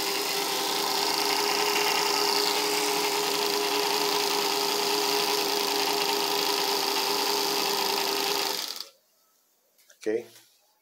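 A Singer 15C sewing machine winds a bobbin with the handwheel released, giving a steady loud whirring motor hum that runs for about nine seconds and then stops, followed by a brief clunk.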